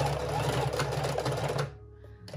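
A sewing machine runs a quick burst of back-and-forth stitching on fabric to lock a stitch, a fast steady whirr up close that cuts off abruptly into near silence.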